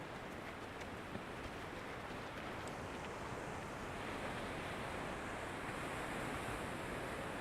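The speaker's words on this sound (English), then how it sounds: "big, big waves coming in here always" Big ocean waves crash steadily onto Mt Maunganui beach in New Zealand, a dense continuous roar of surf with wind buffeting the microphone, broad and unbroken with no voices.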